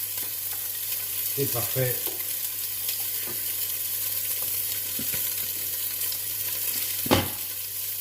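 Chopped onion and garlic browning in a hot pot of oil, a steady soft sizzle running underneath throughout, with a few nearby stirring clatters and a brief spoken comment in French.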